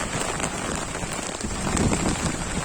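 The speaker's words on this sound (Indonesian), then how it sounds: "situasi hujan deras ya" Heavy rain pours down continuously in the village of Cibuntu, Citeureup, Bogor, a dense, steady hiss drumming on the roof of a nearby hut.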